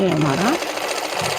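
A sewing machine runs in a steady whirring burst while stitching the folded pocket of a palazzo, heard close up with a person talking over it.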